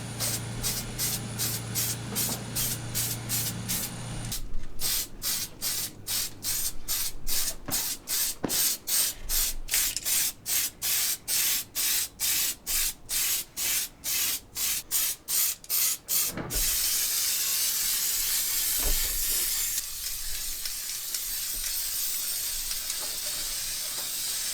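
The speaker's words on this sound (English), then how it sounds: "and then we'll get to painting" Spray paint hisses onto a Traxxas Revo 3.3 RC car body in a run of short rhythmic bursts, then settles into a long steady spray, close and loud with no talking.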